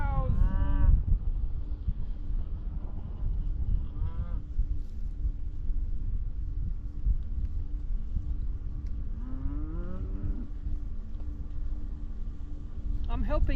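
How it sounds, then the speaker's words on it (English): Cattle moo loudly on a road, with several long calls coming in bursts at the start and middle and a short call at the end, heard over wind noise and the low hum of a passing vehicle. "You got cows on the road."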